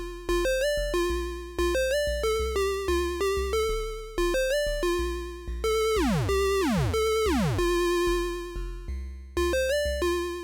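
A chiptune on a Dirtywave M8 tracker, with bright square-wave notes stepping in a quick, regular pattern over a deep bass line, and two swooping downward pitch bends in the middle.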